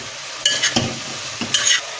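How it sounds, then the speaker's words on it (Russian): Meat and vegetables for a pilaf being stirred in a frying pan, with a few distinct scraping stirs over a steady background sizzle of frying, close by and moderately loud. "Перемешиваем."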